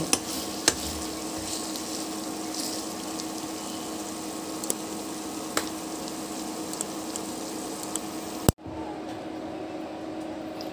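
Garlic and ginger frying in hot oil while being stirred, a steady soft sizzle with occasional scraping clicks of the spoon, ending in a sharp knock and sudden quiet near the end.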